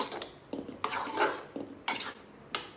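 Lukewarm cooked rice being mixed with salt for South Indian temple-style curd rice or puliyodarai, giving soft, irregular scraping and clinking strokes of a spoon against a vessel, several distinct bursts spread across the moment, close and moderately quiet, with no talking.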